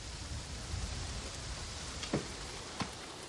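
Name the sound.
rain downpour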